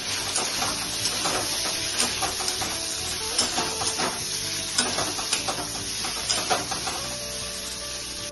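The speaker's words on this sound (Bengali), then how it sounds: "এখন আমি পনিরগুলোকে ভেজে নিচ্ছি" Paneer cubes frying in hot mustard oil, producing a strong, steady sizzle close by, with frequent crackles and spatula scrapes as the pieces are turned.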